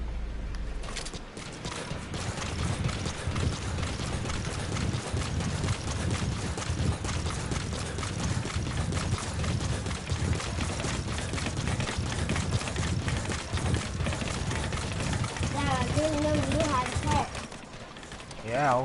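A horse gallops in Metal Gear Solid V, with a steady, dense run of rhythmic hoofbeats that continues loud and close for most of the stretch before fading near the end, backed by game sound.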